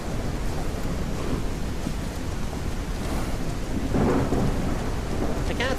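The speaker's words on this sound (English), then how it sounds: "My horse is scared. Because it's thundering." A thunderstorm in The Legend of Khiimori video game pours steady, loud, dense rain, with deep thunder rumbling beneath it that swells louder near the end and no voices.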